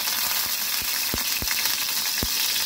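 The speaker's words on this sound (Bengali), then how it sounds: "আমি ফ্রাইং প্যানের মধ্যে কিছুটা সর্ষের তেল দিয়ে দিয়েছি, তেলের মধ্যে দিচ্ছি টমেটো কুচি" Chopped tomato frying in mustard oil in a frying pan gives a steady close sizzle throughout, broken by a few sharp clicks of a utensil against the pan.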